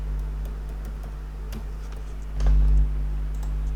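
Typing on a computer keyboard, a sparse run of light clicks and taps spread unevenly over several seconds against a steady low hum, with no voices.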